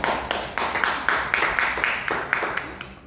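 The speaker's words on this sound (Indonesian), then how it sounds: "berikan aplaus kepada saya" Classroom clapping during a micro-teaching session, a steady run of hand claps with evenly spaced louder accents, close and continuous, no voices over it.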